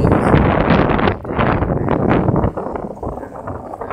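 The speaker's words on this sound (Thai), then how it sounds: "อาจจะมีเสียงลมแรงสักนิดนึงนะ" Strong wind buffets the microphone outdoors in the evening, a loud continuous roar that rises and falls in gusts with no clear pauses.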